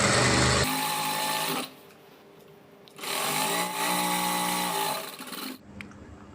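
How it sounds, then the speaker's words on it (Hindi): Sewing machine running a seam down the middle of fabric while a piping edge is sewn, loud steady whirring in two sustained bursts separated by a short quiet pause, then stopping. "इस पर बीच में एकदम सिलाई लगा देनी है"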